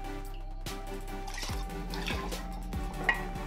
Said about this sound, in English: I'm just gonna add a little bit of milk to each jar